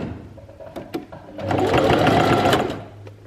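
Sewing machine back stitching a trouser hem: a few short taps and stitches, then a steady, close whirring run of about a second and a half that winds down to quiet.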